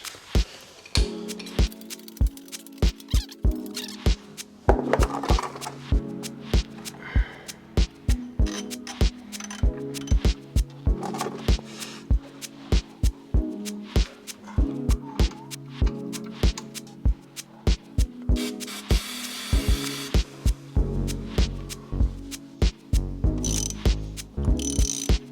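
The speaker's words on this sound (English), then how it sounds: "let's get this thing jacked up" Ratcheting clicks ring out in a steady rhythm as a jack raises a BMW E36, with repeated metallic pawl strokes and short pauses in a garage setting.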